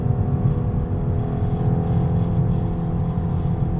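Steady, loud engine drone from a 2021 BMW 430i Convertible in sport mode with the roof up, cruising with a constant low hum and no talking.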